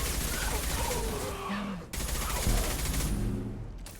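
Rapid bursts of gunfire crackle through a Mass Effect 2 firefight, a dense, steady volley with a sharp break partway through.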